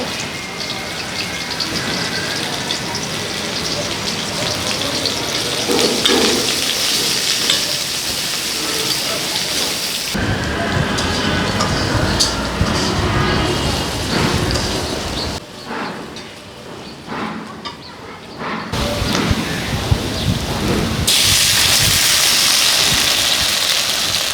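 Onion and green chilies frying in hot oil in a rural home kitchen, a steady loud sizzle and crackle running throughout with brief shifts in intensity, no voices.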